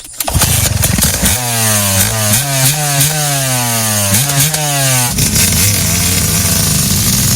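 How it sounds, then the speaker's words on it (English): The engine of a fancy, fast riding lawnmower cranks roughly, then runs loud and close, revving up and down in repeated surges before settling into a steady rough roar. "Not only is that lawnmower fancy, but it is also the fastest, most baddest lawnmower in the entire world."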